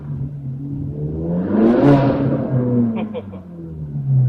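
Ferrari 458 Speciale engine revving hard in a street, pitch climbing to a sharp high wail and then falling away, echoing off nearby buildings and windows, loud and close.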